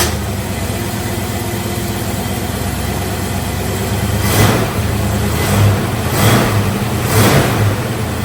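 A 1966 Ford Mustang V8 runs at a steady idle, then blips its throttle in three or four loud, rising revs close by, with no talking.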